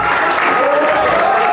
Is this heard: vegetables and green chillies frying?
no